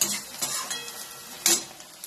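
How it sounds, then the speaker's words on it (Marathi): Onion frying in hot oil for chicken masala, a moderate sizzle broken by several scraping stirs of a utensil against the pan. "चांगलं तेल तापल्यानंतर कांदा घातला की एकदम चांगला कांदा लगेच लालसर पण होतो"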